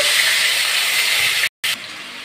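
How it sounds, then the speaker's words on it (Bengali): Onion paste hitting hot oil in a pan while cooking Bengali dim shorshe, a loud, dense, steady sizzle and hiss close up, cut by a brief dropout before continuing slightly quieter. "তো এখন পেঁয়াজ বাটাটা দিয়ে দিচ্ছি"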